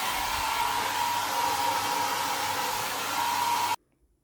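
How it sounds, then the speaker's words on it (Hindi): A hair dryer blows steadily and loudly at close range while drying leftover water after a home cleaning job, then cuts off abruptly, leaving near silence. "पूरा क्लीन करने के बाद मैंने हेयर ड्रायर से यहाँ पर जितना भी थोड़ा बहुत पानी बचा था उस सब को ड्राई कर दिया है"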